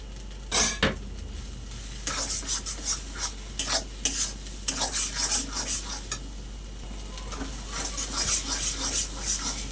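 Fried prawns stirred into pointed gourd bharta in a pan: irregular scraping and rubbing strokes of a spatula against metal over a low sizzle, close up, with a sharp clatter near the start.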